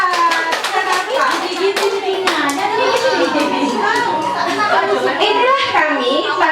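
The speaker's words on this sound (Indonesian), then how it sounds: "tepuk tangan buat jerapah" Kindergarten children clap their hands in a steady rhythmic pattern during a class performance, crisp close claps running throughout beneath children's voices singing or chanting along.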